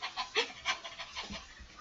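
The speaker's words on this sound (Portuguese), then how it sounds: "Daqui a pouco chegou o cachorro." A dog pants quietly, with quick rhythmic breaths in short bursts that soften toward the end and no talking.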